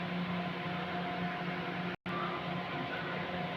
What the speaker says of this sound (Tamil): இந்த குழம்பு நல்லா கொதிக்கிறது.